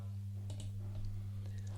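A computer mouse clicks a few times, soft and close, while someone works on Jamboard, over a steady low electrical hum.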